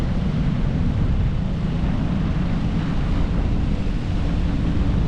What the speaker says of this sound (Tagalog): Medyo mahangin guys. It's a little bit windy.